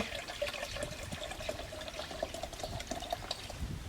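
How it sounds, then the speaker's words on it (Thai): Homemade carrot juice is poured into a bottle, giving a steady, close liquid trickle with small gurgles and splashes throughout, and no voices. "ผสมกันใหม่แล้วก็เทใส่ขวดเหมือนเดิม"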